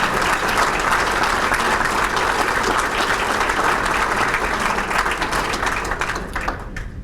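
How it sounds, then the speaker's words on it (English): An audience at a 2008 Roman Catholic High School alumni Sports Hall of Fame ceremony breaks into loud, sustained applause that holds steady before tapering off near the end, with no speech over it. "Yes, you can applaud her."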